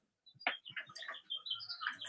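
Birds chirping outside, a quick string of small bright calls and tweets close by with brief pauses between them.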